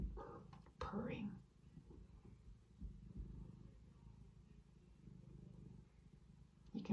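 A cat purrs steadily and close, a low continuous rumble, with a brief louder rustle or voice near the start.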